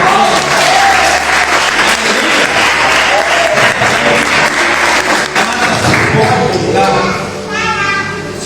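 Church congregation applauding during an evening service, loud dense clapping for most of the stretch, tapering toward the end as voices and a child's chatter come through.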